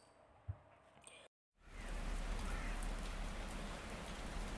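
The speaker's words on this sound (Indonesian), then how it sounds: "Hujan masih deras meski anginnya sudah mereda." Heavy rain pours in a dense, steady hiss after a brief silence, preceded by quieter rustling and a faint knock, loud and close with no voices.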